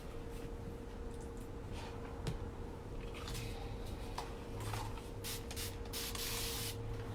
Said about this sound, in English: I'm just misting my piece to mist it, really just to kind of get the paint flowing.